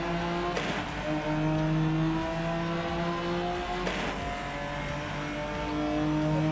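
A BMW M4 race car engine in the video game Rennsport drones at high, steady revs with sharp shifts in pitch as gears change, loud and close, no voices.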